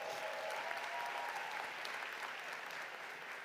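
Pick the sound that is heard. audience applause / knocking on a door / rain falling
audience applause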